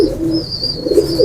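A female pigeon gives a soft, low coo, close and brief, with a faint high whine behind it.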